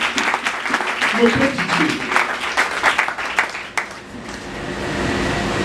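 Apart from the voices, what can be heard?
church congregation applauding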